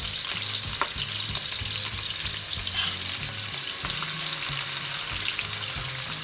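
Red onion, green and yellow peppers, spring onion and white onion sizzle steadily in a pan for Jamaican brown stew, with occasional stirring scrapes over a constant, close frying hiss.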